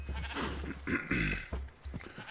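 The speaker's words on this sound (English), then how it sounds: "a cow and a sheep both fell in" Sheep bleat in a Minecraft world, several wavering bleats overlapping in quick succession against a low steady rumble, fairly close and clear.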